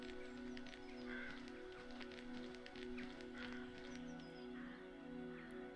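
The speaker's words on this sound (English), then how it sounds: "What a beautiful bird!" A crow cawing in the video game Paratopic, a few harsh caws at a distance over a busy, steady ambient bed with scattered clicks and footsteps, faint overall and without talk.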